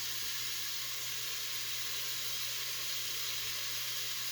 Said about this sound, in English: now while we're letting that get browned up real good